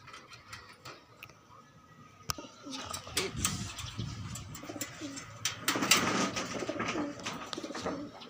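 Pigeons coo at a loft under an overcast sky, soft at first and then louder and busier, with clicks and rattling mechanical noises mixed in.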